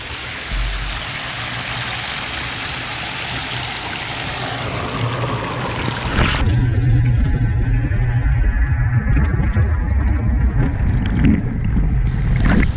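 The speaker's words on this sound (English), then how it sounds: "Mini waterfall." Small spring-fed waterfall running out of a pipe in a garden park, a steady rushing trickle that grows louder and closer about halfway through, with no talk.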